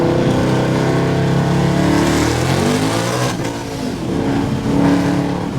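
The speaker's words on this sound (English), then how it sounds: "That was a third gear pull, and I'm smoking the tires." A 2011–2014 Ford Mustang with the Coyote 5.0 V8 roars loudly and close through a third-gear pull in Mexico, tires smoking without traction, the engine note holding a sustained, rising drone.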